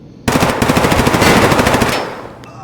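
Loud burst of automatic gunfire from a weapon in the shooter game Escape from Tarkov, rapid shots rattling close for about two seconds before trailing off.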